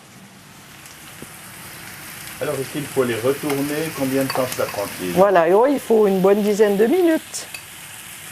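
Raw potatoes added to a pan already frying shallots and small bacon lardons in a restaurant kitchen; a steady sizzle and stirring run underneath as people talk over it.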